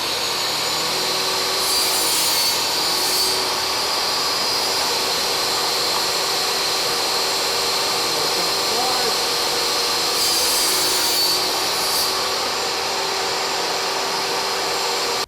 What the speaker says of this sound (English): the first cut here is just going to be to square up this corner, so I'm going to take off just a bare minimum